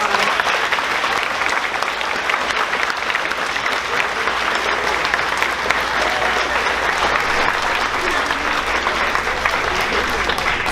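A large audience at a 6th grade elementary school graduation applauds the students, a steady, dense wash of clapping that stays loud and even throughout without pauses.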